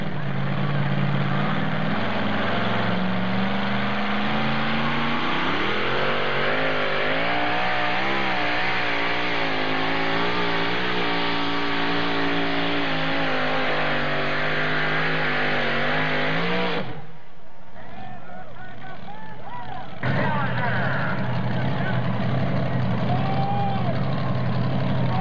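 A modified two-wheel-drive 1995 Ford F-150 with a 575-cubic-inch engine roars at a truck pull, loud sustained revving that climbs in pitch, cuts out briefly near the end, then comes back.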